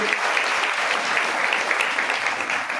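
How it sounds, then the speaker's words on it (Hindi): A congregation claps together during a Hindi and Santali church service, offering a round of applause to glorify the Lord. The dense clapping is steady and fairly loud for the whole stretch, with no talk over it. "एक बार ताली बजाकर प्रभु को महिमा देंगे।"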